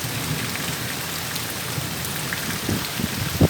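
Steady rain pours down in Islamabad and Rawalpindi, a loud, even hiss of drops on surfaces throughout, with a couple of low rumbles near the end.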